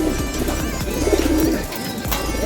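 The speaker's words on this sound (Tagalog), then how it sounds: "Ito yung puti nating ibon." A white racing pigeon coos close by in a steady, repeated low murmur that runs through nearly the whole moment, with a short pause near the end.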